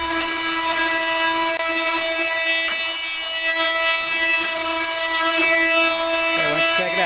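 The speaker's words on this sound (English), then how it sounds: "let's sand the inside of it now" A power sander whines loudly and continuously with a steady high-pitched tonal buzz while sanding the inside of a Craftsman workbench during restoration.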